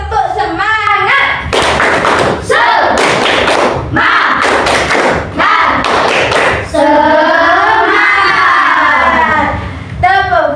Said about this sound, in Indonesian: sekarang kita biar lebih semangat, tepuk semangat